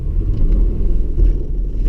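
A 2019 Toyota Tacoma in crawl control gives a deep, loud low rumble that swells briefly as the gas is pressed, heard from inside the cab with no voices.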